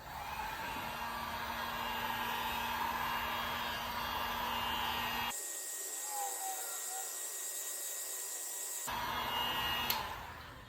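A heat gun blows hot air over the factory decals on a Yamaha FZ6R motorcycle's plastic fairing, a steady close-up rushing hiss with a constant whine that drops out briefly mid-clip before resuming.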